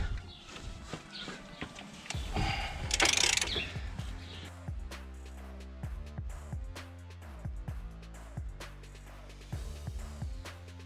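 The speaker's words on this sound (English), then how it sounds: "with the extension rod now I have a more comfortable position so that I can try to untighten the nut" Wrench with an extension rod loosening a brake drum nut on a Renault-type rear brake, giving repeated ratcheting clicks and metallic knocks in a steady rhythm, close and fairly quiet, with no talking.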